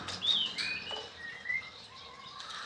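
A female Mozambique canary (trotolan) gives a few thin, high chirps close by. The chirps come over faint rustling and pattering in its cage, and no voices are present.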